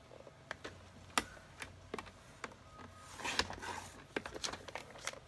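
Paper trimmed to size for a card pouch craft, a series of sharp separate ticks and crisp slicing swipes with a denser burst of crinkly cutting midway, close and fairly quiet.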